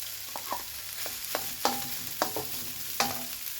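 Rice is stir-fried in a pan with yellow chili for khao phat jap kang, with a steady sizzle under repeated scraping spatula strokes, close and at a moderate level, and no one speaking.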